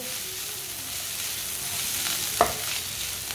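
An onion dish with fresh coriander being mixed over low heat, a gentle steady sizzle with a single sharp utensil clink near the end.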